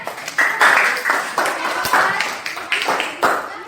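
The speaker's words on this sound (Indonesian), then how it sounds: "Tepuk tangan" Pupils in a primary school classroom clap their hands in short rhythmic bursts, bright and close, with voices mixed in between the bursts.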